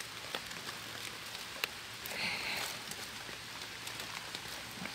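Rain falls steadily during mushroom picking outdoors, a soft continuous patter with a few sharper drop hits and a brief louder swell midway, no talk heard.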